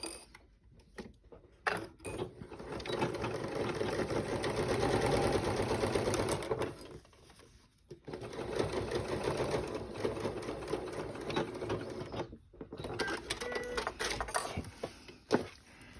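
Sewing machine stitching a seam on a triangle zipper pouch with a 3/8 inch seam allowance and back stitching, a close mechanical whirr in several runs separated by brief pauses and clicks.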